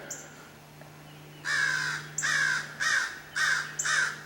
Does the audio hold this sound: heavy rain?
no